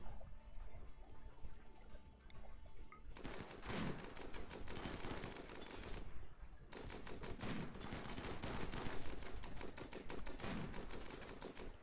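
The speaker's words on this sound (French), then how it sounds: "Arrêtez de tir automatique." Automatic gunfire in the colony-building video game Rimworld during a raid, coming as two long rapid bursts of dense, rattling shots, broken by a brief pause.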